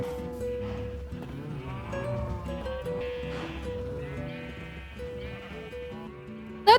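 Minecraft sheep and cattle give a jumble of overlapping moos and bleats, moderately loud and close, layered over game music and ambience, with no one talking.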